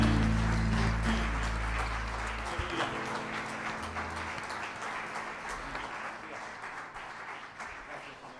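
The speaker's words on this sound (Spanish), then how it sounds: "Fuerte ese aplauso al Señor." A church congregation applauds during an evening worship service: a dense, sustained wash of clapping that starts loud over low held tones and slowly thins out toward the end.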